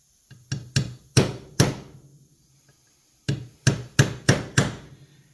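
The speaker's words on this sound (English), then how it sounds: "That's the back side of a 10 millimeter. I can just tap it down in there." Hammer tapping the back side of a 10 mm socket down during Kawasaki GR730V assembly: four sharp metallic knocks, a pause, then five more in quick rhythm, loud and close with no talk.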